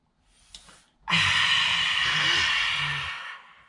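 A long, forceful breathy exhale through an open mouth, loud and close, following a short quieter breath in.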